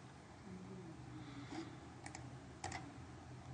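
Quick pair of computer mouse clicks at a desk during 3D modeling and animation software work, faint and close, set against a low room hum with a few other light clicks nearby.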